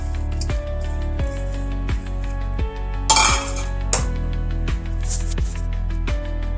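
Soaked lentils and their soaking water go into a cooking pot, with repeated clinks and knocks of a metal utensil against the pot and a brief splashing pour in the middle. Close and fairly loud, with no speech.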